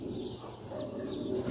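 A champion racing pigeon coos softly and close, low repeated murmurs over faint background noise.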